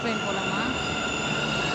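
A crowded metro train pulls into a station and keeps moving, giving a steady loud rumble with high metallic wheel squeal throughout and a few voices faintly audible beneath it.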